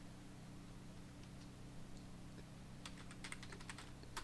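Computer keyboard typing into a Chrome search bar, faint and close. Quiet background hiss at first, then a short burst of quick key clicks toward the end.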